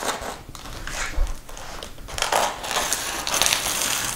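A blade cuts and tears open the cardboard packaging of a headless guitar kit box, with close scraping, crunching and rustling strokes and a few sharper rips.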